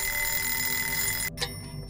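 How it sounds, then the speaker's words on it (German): An alarm clock rings in the mystery game Obscuritas, set in a villa: a loud, steady metallic ringing that cuts off abruptly partway through, leaving a faint hum. "Und schon wieder klingelt hier der Wecker."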